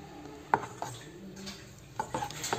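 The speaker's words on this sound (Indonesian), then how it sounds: "Kita aduk dulu biar tidak ada tepung yang mengendap di bawah" A utensil stirs kue cucur pandan batter in a bowl, giving scattered light clinks and scrapes with one sharper tap early and a small cluster near the end, close and quiet, without speech.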